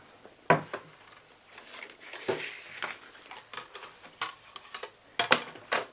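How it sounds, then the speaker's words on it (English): A manual cut and emboss machine cranks a die through, giving a series of irregular close clicks and ratcheting knocks with brief gaps between them. "I'm going to grab the cut and emboss and I'll show you how I run this through."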